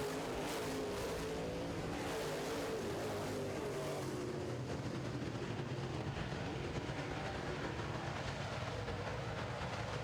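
Modified race cars racing on a track, a dense, continuous engine roar from a packed field, steady and loud with a rumbling, rattling texture and no voices.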